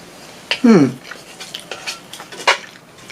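Metal utensils scrape and clink against a pressure cooker pot while someone eats from it, a few close, sharp scrapes and taps, with a voice briefly heard between them.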